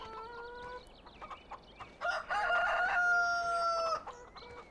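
Chickens in the Farming Simulator 2013 farm game cluck in short bursts, then a rooster gives a loud, drawn-out crow close by.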